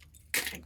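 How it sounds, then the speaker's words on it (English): A bunch of gun safe keys jangles with a short bright metallic rattle, close and brief after a moment of quiet. "All of these are gun safe keys for all of my gun safes."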